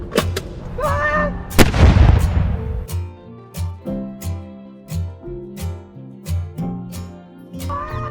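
Artillery guns firing a ceremonial salute, several loud booming reports in sequence, the first two close together, then a ringing, rumbling tail with distant tones and faint commands under it.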